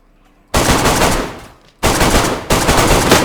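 An AK rifle fires in DayZ PvP combat in three close, loud bursts of rapid semi-automatic shots, separated by short pauses.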